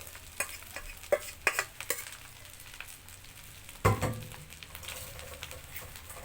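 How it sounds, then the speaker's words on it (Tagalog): Garlic fried rice (sinangag) is stirred in a pan, with a soft steady sizzle under repeated scraping strokes of a utensil and one louder clatter midway. "Sasangag natin ngayon para maluto mo."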